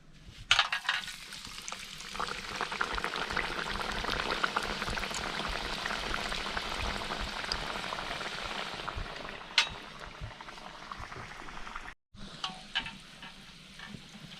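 Rava pathiri, a flat rice-semolina bread, frying in hot oil, giving a steady, fairly quiet sizzle with a few sharp crackles and a brief break near the end.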